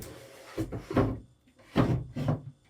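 A wooden dresser drawer is pulled open and pushed back during a restoration, giving several close, loud bursts of sliding, rumbling wood-on-wood scraping with short pauses between.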